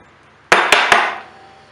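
A brass drift punch is struck to tap a part down on a Briggs and Stratton lawn mower engine, giving three sharp, loud metallic knocks in quick succession that ring briefly before fading.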